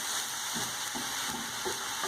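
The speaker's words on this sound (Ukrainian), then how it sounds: "Гриби смажимо на сухій сковорідці, поки не випарується волога." Steady sizzling and crackling from mushrooms frying in a dry pan, with soft occasional stirring scrapes, close and continuous, no voices.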